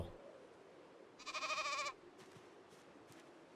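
A sheep in Project Zomboid lets out one clear, drawn-out bleat lasting under a second, standing alone over a quiet in-game background.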